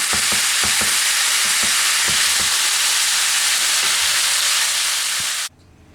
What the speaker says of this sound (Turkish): Kıymamın rengi dönünceye kadar bu şekilde biraz kavuracağım kıymamı.